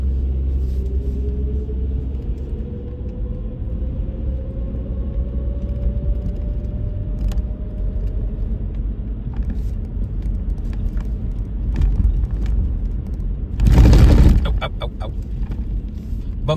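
A car rolls over a bumpy residential street in Saddle Brook, New Jersey. A steady low rumble of road and engine noise runs throughout, broken near the end by a louder jolting thump.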